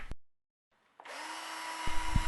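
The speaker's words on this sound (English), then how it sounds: "Now drill into the studs to create holes for the fixing screws." A power drill bores holes into metal ceiling studs, its motor whining up to a steady, loud drone after a brief pause, with a clunk or two as the bit bites into the metal.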